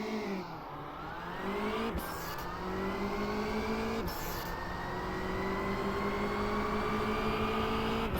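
A car engine in a video game hums steadily while the car rolls in neutral, its pitch climbing slowly with a couple of brief dips, loud and continuous with no voices.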